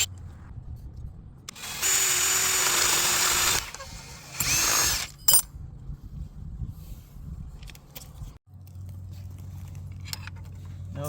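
A power drill boring holes in a hand-built spreader bar for model railway switch points: two loud whirring runs, the first about two seconds long and the second shorter, followed by scattered clicks and handling noises, with some talk.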